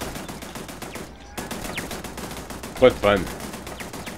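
Gun turrets firing in the video game Starfield, rapid clattering shots throughout with two louder bursts near the end, while someone talks briefly over them.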